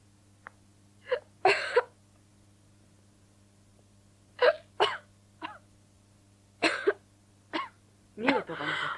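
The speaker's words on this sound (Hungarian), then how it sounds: "Mióta van ez a köhögés?" Repeated coughs and throat clearing from a person in a dubbed thriller film scene, short harsh bursts spread irregularly across the clip, close and fairly loud over a low steady hum.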